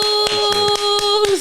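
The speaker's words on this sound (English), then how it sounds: "give a big round of applause for my guest today" A podcast studio greets its guest with a short burst of roughly half a dozen sharp, separate hand claps, close and distinct, over a sustained electronic tone.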